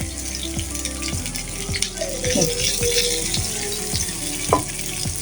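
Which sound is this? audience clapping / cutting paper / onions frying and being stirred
onions frying and being stirred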